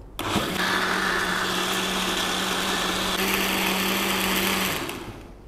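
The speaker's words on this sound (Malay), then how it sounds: "matikan mixer" An electric blender whirs steadily at full speed while blending cooked rice with coconut water, a loud continuous motor drone with a slight shift in pitch midway, then winding down at the end.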